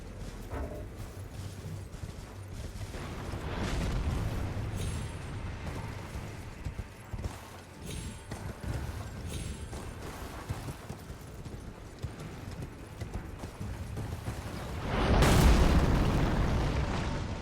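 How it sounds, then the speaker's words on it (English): A giant firing explosive attacks in the Elden Ring DLC: heavy rumbling booms and blasts over busy game noise, mechanical clatter and footsteps, with a loud explosion near the end. "Oh, the giant's shooting at me."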